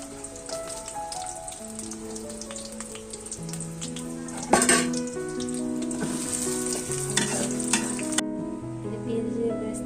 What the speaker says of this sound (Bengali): এই যে পেঁয়াজ কেটে রেখেছি এটাকে আমি ব্রেস্তা করে নিব তেলটা গরম হয়ে এসেছে